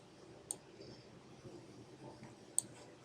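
Two quiet, crisp computer mouse clicks, about two seconds apart, in an otherwise hushed room.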